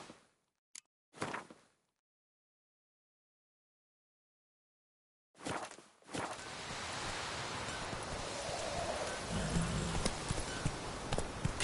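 Horse hooves galloping in a PS4 video game, a steady clip-clop rising after a near-silent gap and running on continuously, fairly loud, with a brief rider's shout early on.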